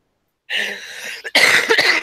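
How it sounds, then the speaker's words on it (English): Two harsh, breathy coughs close to the microphone, the second louder and rougher, with no speech around them. "if I cough occasionally, I'm very sorry"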